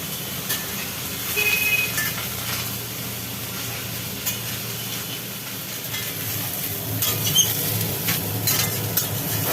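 Water sputtering and sizzling in a hot pan while cooking a Bengali jackfruit (echor) dalna; a steady, dense crackling hiss continues throughout with small scattered pops, close and fairly loud.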